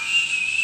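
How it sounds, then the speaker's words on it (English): A cheap tin stovetop kettle whistles with a steady, shrill, sustained tone, loud and close, lasting under a second with no talking. "So this is a cheap stovetop kettle, which, you know, has the whistle on it"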